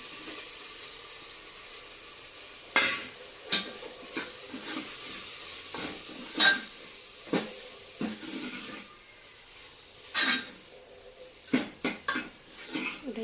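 Masala of onion and tomato sautéing in a pan, with a steady low sizzle and sharp, irregular scrapes and clanks of a spoon stirring, alone with no talk.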